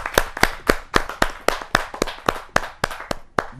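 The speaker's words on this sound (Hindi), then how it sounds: "जोरदार तालियों के साथ हम उनका स्वागत करें।" Audience clapping at a Hindi kavi sammelan poetry gathering: a steady run of about fifteen sharp, close claps at an even rhythm, loud and clear with no talk over them.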